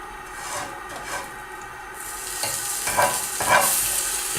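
A tablespoon of oil heats in a pot as caramel stock for Afghani palao begins, giving a steady broadband sizzle with a few scraping stirs that grow louder toward the end; no one speaks.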